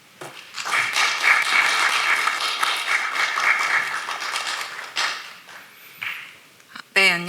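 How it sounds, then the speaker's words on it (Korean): A seminar audience claps warmly to welcome a university professor to the lectern. The clapping is sustained for several seconds and then tapers off, followed by a few faint shuffles and a short burst of voice at the end. "오늘 발표를 해주실 박지연 교수님을 따뜻한 박수로 모시겠습니다."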